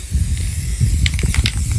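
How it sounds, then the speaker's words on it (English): A can of black spray paint hisses in a steady burst, close and continuous, with a few faint clicks and rattles near the end. "Now we're gonna spray all this black down here."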